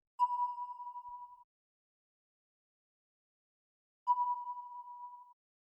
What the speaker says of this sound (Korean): FX 같은 경우는 조금 유리 같은 물병 느낌을 주기 위해서 저희가 노이즈에 글라스 리드라는 노이즈를 넣게 되었고요